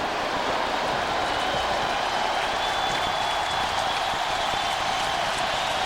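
A football stadium crowd at a 2002 Buccaneers at Eagles NFL game applauds the security staff, making a dense, steady roar of clapping and cheering that fills the whole stretch at an even level, with no talk over it.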